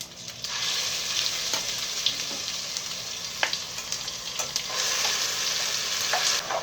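Ground chutney fries in a pan over a low to medium flame, giving a continuous sizzle broken by the scrape and clack of a spoon stirring at intervals, close and without any talk.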